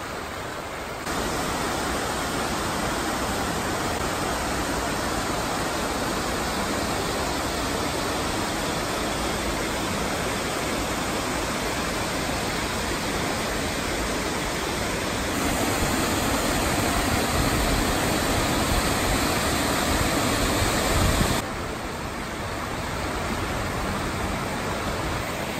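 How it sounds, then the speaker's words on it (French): One of many waterfalls on a plateau in Laos roars as a dense, steady rush of falling water, loud and unbroken for the whole stretch, with no voices. "Une des nombreuses cascades du plateau."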